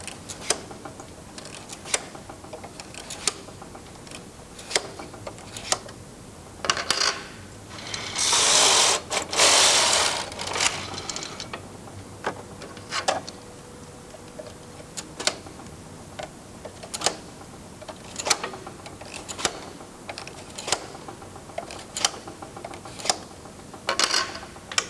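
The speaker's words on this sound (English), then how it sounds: "thread the carriage and knit the first row" A Brother knitting machine carriage knitting a row, with sharp regular clacks and ticks spaced through the span and a brief louder whirring rush in the middle.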